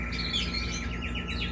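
Canary chicks, already feathering, white with grey crests, chirp in rapid, high, repeated cheeps while being hand-fed with a soft food mix, close and steady over a low background hum.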